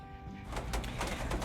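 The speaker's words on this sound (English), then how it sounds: "That is a cool looking bird." A bird, apparently a pigeon or dove, coos at a beach state park campground in wind and rain, low repeated calls heard close over broadband wind rush, with no talk.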